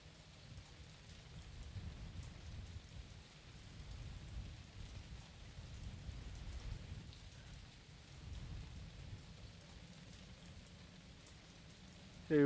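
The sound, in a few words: rain in video game Mon Bazou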